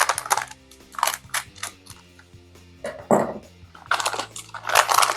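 Scissors cut open a cardboard box holding a Trendi Switch Ice White chrome rocker light switch, with crisp snips, crunches and rustles in uneven bursts. Steady background music plays underneath.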